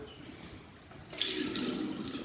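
Starchy rice-washing water poured into a kitchen sink drain, a soft running gush that grows louder and splashier partway through, close and quiet.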